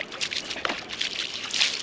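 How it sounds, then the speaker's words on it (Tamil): Water splashing and trickling over a bicycle as it is washed after a long ride, with short close sloshing bursts against a soft hissing background. "லைட்டாக தண்ணி ஊற்றி ஊற வச்சுக்கிற மாதிரின்னு வச்சுக்கோங்களேன்."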